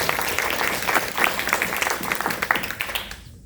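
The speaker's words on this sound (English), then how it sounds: "Give him a round of applause." Audience applause at a talk on combating antisemitism, a dense, steady burst of many hands clapping that stays loud before trailing off near the end.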